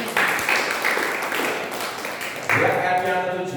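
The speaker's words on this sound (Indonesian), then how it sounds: "Beri tepuk tangan buat Tuhan Yesus" A church congregation at a full-gospel Sunday service claps for Jesus. The steady applause comes in two waves, the second swelling louder over a sustained tone.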